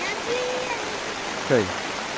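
Heavy rain and rushing water pour down steadily in a rural hillside village, a dense, even hiss filling the scene. A voice is briefly heard partway through.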